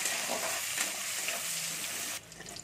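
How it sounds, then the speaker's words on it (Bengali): Chopped onions sizzle and crackle as they fry in a pan while being stirred, a steady bright hiss that drops suddenly to a quieter sizzle near the end, with no talking. "পেঁয়াজটাকে আমি একটু ভেজে নেবো।"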